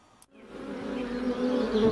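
A honey bee buzzes close and steady, the drone swelling louder over two seconds after a brief quiet start with a faint click.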